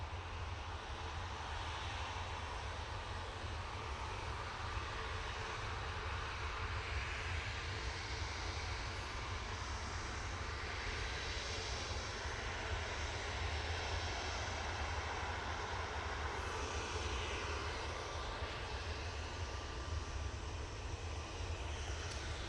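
A TUI airliner sits lined up on the runway at Manchester Airport with its jet engines running, a steady distant roar that holds level throughout.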